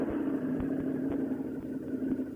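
Harley-Davidson V-Rod Night Rod Special motorcycle engine idling after start-up: a steady mid-pitched hum with faint, uneven low thumps from the engine, fairly close and moderate in level.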